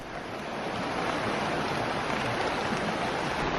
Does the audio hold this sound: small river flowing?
yes